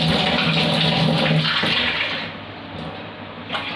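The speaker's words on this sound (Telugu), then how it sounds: "అదే కప్పుతో మనం ఒక 2 or 3 cups వాటర్ తీసుకుని గిన్నెలో పోసుకున్నామండి" Cups of water poured into a cooking pot, a steady close splashing rush that fades toward the end, with no talking.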